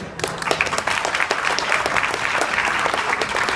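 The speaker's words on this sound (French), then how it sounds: "On applaudit Thierry" Steady audience applause fills the room for a guest at a French-speaking gathering, dense clapping holding at an even, loud level from start to finish.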